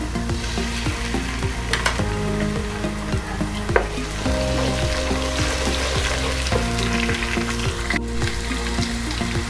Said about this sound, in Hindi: लहसुन अदरक को हल्का सा फ्राई करेंगे।